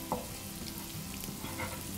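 Ginger and garlic sautéing in butter in a pan, a quiet, even sizzle with faint crackles, close by and with no talk.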